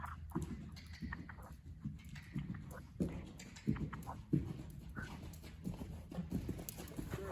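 Hooves of a horse in canter during a dressage lesson, a soft rhythmic clip-clop repeating steadily over arena footing, moderately near, with faint background noise and no talk.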